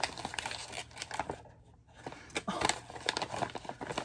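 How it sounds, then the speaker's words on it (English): Scissors slicing through tape on a mailed package, with crisp crinkling and tearing bursts of plastic and paper close by, a short quiet pause in the middle, no talking. "I'm gonna carefully cut it."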